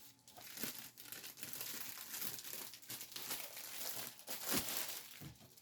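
Cellophane wrap crackles and crinkles almost continuously as a gift is wrapped in it, with a sharper, louder burst of rustling near the end; close up, with no talking.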